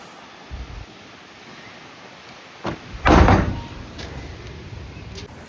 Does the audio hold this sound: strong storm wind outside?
yes